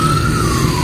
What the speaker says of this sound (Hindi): और एम्बुलेंस गुजर रही है